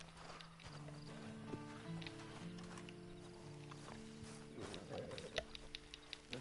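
Steady clip-clop of horse hooves in the video game Red Dead Redemption 2, faint and even, under a low musical background with a brief whinny-like sound near the end.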